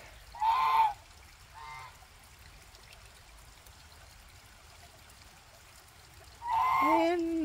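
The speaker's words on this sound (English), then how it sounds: "Here comes the geese." Geese honking outdoors near running water, two loud bursts of calls with a fainter one between, over a steady trickling stream.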